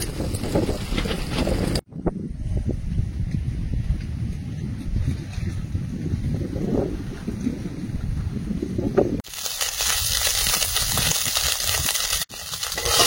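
Strong storm wind gusts around an outdoor clay cooking stove, a loud rushing roar with buffeting against the microphone that drops out briefly before surging back, with no one talking.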